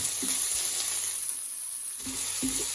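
Taiwanese basil chicken stir-fry sizzles loudly and continuously in a hot pan, close up, with a few soft knocks of stirring.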